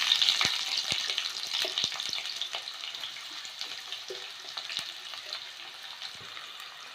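Chopped onions hit hot oil already holding cardamom, star anise and bay leaf for kuska, giving a steady close sizzle with scattered crackles and pops from the pan and an occasional stir, with no voices.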